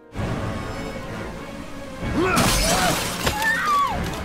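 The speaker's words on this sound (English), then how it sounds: "he just broke through solid glass using his bare fists" Glass shatters loudly as bare fists smash through a solid pane in the video game Heavy Rain, a sudden crash over a tense ambient score with scattered shards trailing off.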